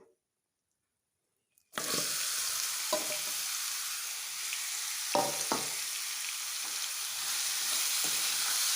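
Chunks of jackfruit being stirred and fried in a pan for a Malnad-style jackfruit palya, giving a steady close sizzle with a few sharper scraping stirs and no talking.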